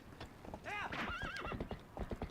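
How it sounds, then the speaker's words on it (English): A horse in the video game Zelda Twilight Princess neighs loudly while its hooves clip-clop in a fast, steady gallop, with a voice talking over it. "You run into like one like little thing and this horse just freaks out"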